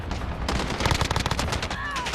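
A PKM machine gun fires in Call of Duty Warzone with a rapid sustained burst of close, loud shots. The fire runs nearly unbroken for about two seconds, without speech.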